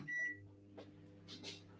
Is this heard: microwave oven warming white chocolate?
yes